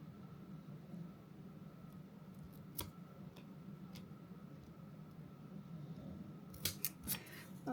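Scissors trim a paper planner sticker, a few faint, crisp snips scattered over a quiet background, with a short cluster of sharper cuts near the end.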